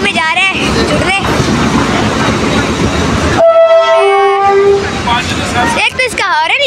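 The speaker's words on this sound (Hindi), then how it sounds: "ट्रेन की आवाज़ आ रही है" A loud train rumbles close by with clattering wheels, then a long blaring horn sounds, followed by more rolling rail noise.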